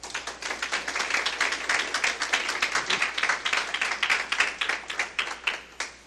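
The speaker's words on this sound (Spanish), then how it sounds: "Démosles un fuerte aplauso." Loud, steady applause from an audience at a Panamanian journalists' solidarity event, many hands clapping densely and continuously throughout without talk.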